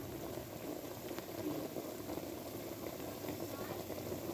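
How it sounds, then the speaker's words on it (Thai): A pot of beef simmers over a charcoal stove, giving a soft, continuous bubbling and burbling hiss that stays low and steady, heard close with no one talking. "ตั้งเตาถ่านหอมๆครับผมเคี่ยวเนื้อเปื่อยครับ"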